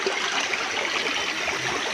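A branch of a river flows through forest in the Bukit Barisan hills, a steady close rushing and trickling of water with no voices.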